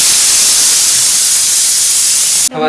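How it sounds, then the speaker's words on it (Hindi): A household pressure cooker lets out a loud, sustained steam whistle, a steady hiss that holds for over two seconds and then cuts off abruptly. "कुकर को क्यों रखा है, सीटियां मार रहा है बार बार ये"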